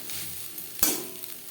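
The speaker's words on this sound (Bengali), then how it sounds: "ডিমের ভুজিয়া পাস্তার সাথে বেশ ভালো করে মিক্স করে দেবো।" Scrambled egg being tossed together with pasta in a pan, a single scraping stir of spatula against metal over a soft steady sizzle, close and brief.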